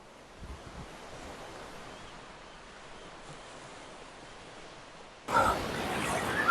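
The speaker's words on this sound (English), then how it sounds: "Let's hit the waves!" Ocean waves at Wildwood beach on the Jersey Shore, a soft distant wash of surf that swells into a louder, closer rush of breaking water near the end, with some wind noise.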